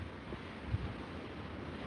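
Steady wind buffets the microphone, a continuous low rumble and rush with no other clear sounds.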